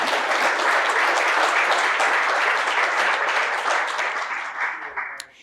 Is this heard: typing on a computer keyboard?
no